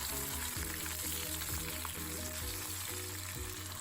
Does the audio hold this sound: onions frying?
yes